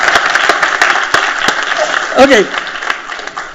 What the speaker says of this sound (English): you must give an applause for every not answered question by these stalwarts